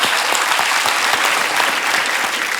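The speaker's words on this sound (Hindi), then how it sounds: "जोरदार तालियां हैं खान साहब" A studio audience at a Hindi comedy show breaks into loud, dense applause. The clapping stays strong and steady for nearly three seconds.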